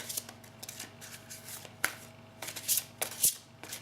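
Oracle cards shuffled by hand for a reading, a quiet, close series of rapid papery riffles and flicks with a few sharper snaps, no talking.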